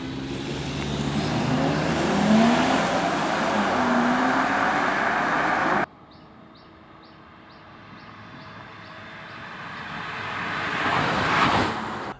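A 2023 BMW 530e G30 plug-in hybrid accelerates hard in a drag race against a 540i with the B58 engine. A loud, rushing engine and road roar with rising tones lasts about six seconds, then cuts to quieter road noise that builds again.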